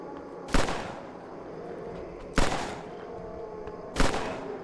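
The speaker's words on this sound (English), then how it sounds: "Maybe we'll take out our pistol here. Try the pistol out." Three pistol shots ring out in the zombie survival game Survive The Nights, evenly spaced about two seconds apart, each a sharp crack with a short decaying tail over a quiet background.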